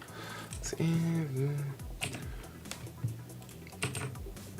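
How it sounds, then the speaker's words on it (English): Typing on a computer keyboard, a scatter of quick clicks and taps running at an uneven pace beneath a person speaking nearby. "One of these days, I'm gonna get faster at typing and it won't be a 27-hour delay."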